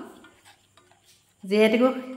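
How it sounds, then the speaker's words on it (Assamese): A spoon clinks and scrapes faintly against a pan, followed by a louder, brief squealing scrape near the end. "এতিয়া মিশ্ৰণটো আকৌ অকমান ভাজি লম"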